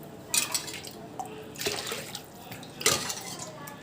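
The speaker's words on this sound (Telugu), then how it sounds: "గ్లాస్ సగ్గుబియ్యంకి 4 గ్లాసులు వాటర్ వేసుకుంటున్నానండి" Water poured from a glass onto sago pearls set to soak, heard as a few short splashing pours with a clink of vessels in a quiet kitchen, with no voices.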